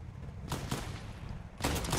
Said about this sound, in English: That's a bot right there shooting